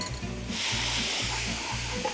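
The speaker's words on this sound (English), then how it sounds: "I'm going to put in garlic, and before it gets too brown, I'm going to deglaze it" Loud, steady sizzling of garlic in a hot pan, with a rhythmic low scraping as it is stirred, then a brighter, fuller hiss as prawn stock hits the pan.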